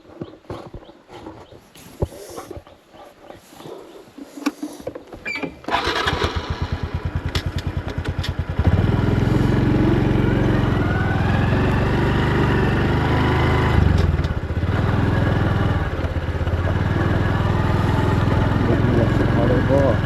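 A motorcycle engine starts after a few quiet clicks and knocks, then settles into a loud, close, continuous running rumble that holds steady with small surges.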